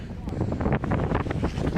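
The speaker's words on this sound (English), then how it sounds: "it's windy" Gusty wind blows outdoors after a blizzard, buffeting the microphone in a loud, uneven roar, with a voice speaking briefly over it.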